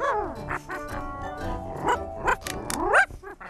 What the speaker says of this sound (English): He wondered what this strange new white thing could be, and barked to make it go away.